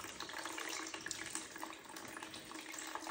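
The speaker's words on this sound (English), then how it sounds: "Once you open that filter, you will see that the water will come out." Water pours steadily out of the opened drain filter of a Miele washing machine into a tray, a continuous close splashing rush with no talk.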